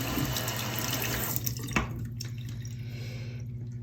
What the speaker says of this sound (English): And just give this a very quick rinse.